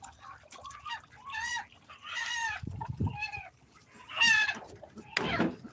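Ducks splashing in a small bucket let out loud nasal quacks in scattered bursts, near and clear against an otherwise quiet yard.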